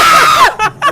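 A loud, piercing scream rings out for half a second inside a Christmas haunted house walkthrough, followed by two short, sharp shrieks.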